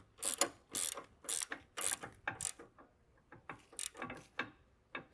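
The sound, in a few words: ratchet tightening ball joint nut on Volvo XC90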